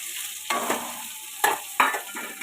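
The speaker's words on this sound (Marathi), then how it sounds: "ह्याच्यात मी कढीपत्ता टाकते. आणि हे बघा, कांदा आणि मिरची मी सोबतच टाकते." Curry leaves, onion and green chili hitting hot oil with mustard and cumin seeds for a potato dish, a few bursts of hissing sizzle and stirring scrapes, close up, no speech.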